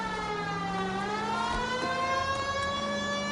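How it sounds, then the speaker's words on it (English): A police car siren wails in the video game L.A. Noire, a steady, loud harmonic tone slowly gliding upward and holding, continuous under engine rumble with no talk. "There's my siren."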